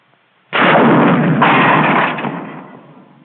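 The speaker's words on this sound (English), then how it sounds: "It takes a little time for the rocket to get out of the tube." A bazooka rocket launcher fires a rocket: a sudden loud roaring blast that holds for about a second and a half, then fades gradually.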